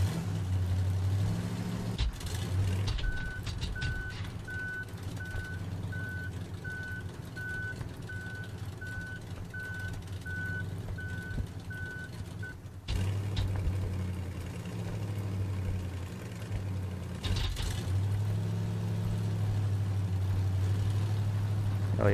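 Reversing-truck beeps from Human Fall Flat repeat steadily for about ten seconds over a continuous low engine drone, with heavier engine surges and clunks breaking in later.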